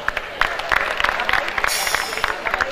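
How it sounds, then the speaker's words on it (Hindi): Audience applause at a music night, steady dense clapping from a crowd throughout, fairly loud and close. "मखदूम अकबर शाह साहब के लिए बहुत सी तालियां होनी चाहिए।"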